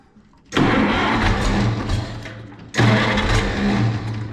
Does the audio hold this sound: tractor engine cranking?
yes